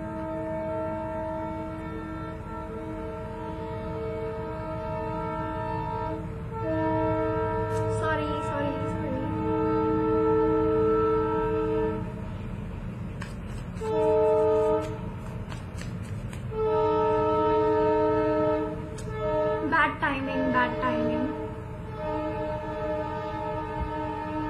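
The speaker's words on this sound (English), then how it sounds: "Sorry about the train, guys." A passing train sounds its horn in long sustained blasts over a steady rumble of rolling wheels, loud and continuous throughout, with a voice speaking underneath.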